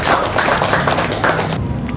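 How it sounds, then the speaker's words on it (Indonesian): A classroom audience claps in dense, steady applause for about a second and a half before it quickly fades out. "Kita kasih tepuk tangan buat Anissa"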